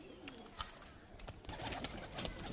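A pair of high-flying pigeons is let go from the hand, with faint soft cooing and brief fluttery wingbeats, quiet and close.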